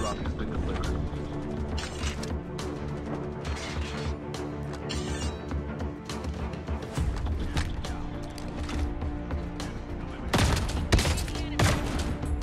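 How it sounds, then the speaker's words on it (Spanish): Gunfire in an online shooter game: rapid bursts of shots and mechanical clatter repeat throughout, fairly close and dense, with a louder volley near the end. "No logré acertar ni un disparo."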